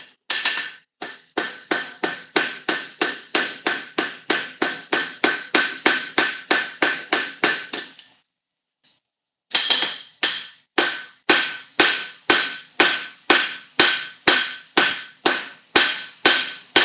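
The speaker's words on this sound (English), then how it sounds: "you'll see why I use this shaped hammer right here" A blacksmith's shaped hammer forges the tail end of an iron hook with loud, evenly spaced ringing blows. A long rapid run stops briefly, then a second steady run of strikes follows, close and clear.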